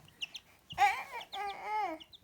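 A newly hatched chick chirps in a series of short, high peeping calls, close and fairly quiet, some rising and falling in pitch.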